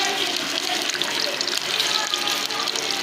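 Gola kababs dropped one by one into medium-hot oil in a frying pan produce a steady, dense sizzle that stays loud and continuous throughout.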